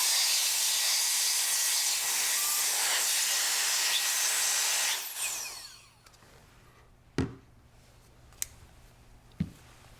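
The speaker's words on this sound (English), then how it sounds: "Compressed air will remove it." Compressed air blasts loudly into a Benelli M2 semi-auto shotgun action in a continuous hiss for about five seconds, then stops, followed by a few sharp clicks and taps of handled parts.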